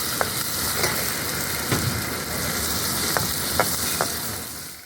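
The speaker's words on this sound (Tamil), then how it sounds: "இந்த பாருங்கள், வெங்காயம் தக்காளி எல்லாம் நல்லா வதங்கிடுச்சு" Shallots, green chilies, curry leaves and tomatoes sauté in a pan for banana flower kuzhambu, giving a steady, close sizzle with a few sharp ticks of a spoon against the pan.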